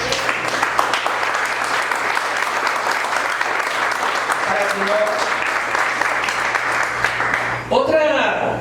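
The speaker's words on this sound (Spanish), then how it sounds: "Un aplauso al Rey." A church congregation applauds during a sermon, a dense, sustained round of clapping with voices mixed in, ending with a brief sung or spoken phrase over the last of the claps.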